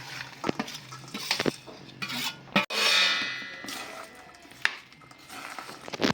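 Raw mango pieces and jaggery stirred together in a pot with water, giving scraping, clinking strokes of a spoon against metal with a few sharp knocks, close and fairly loud, no talking.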